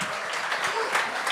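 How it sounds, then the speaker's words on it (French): A comedy show audience applauds as comedian Jason Boyd takes the stage, a short stretch of continuous clapping with crowd murmur mixed in. "Applaudissez jusqu'à temps qu'il commence à parler dans le micro, s'il vous plaît."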